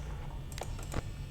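Two or three quick, faint clicks of a computer mouse during tense gameplay in Five Nights at Freddy's, heard close against a low steady background hum with no talking.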